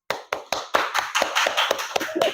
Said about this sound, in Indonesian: Mari beri tepuk tangan untuk kelompok melon